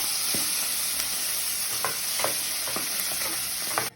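Octopus frying in hot cooking oil, a steady loud sizzle and crackle with occasional sharper pops and stirring clatter, no talking.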